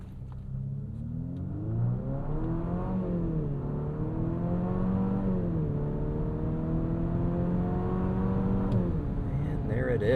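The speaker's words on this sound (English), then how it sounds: "let's get this off the line and do a quick 0 to 60 here" A 2027 Infiniti QX65 turbo coupe SUV on basic all-season tires launches from a stop in a 0 to 60 run, its engine note climbing steadily through gear shifts with a strong interior rumble, while a person talks over it.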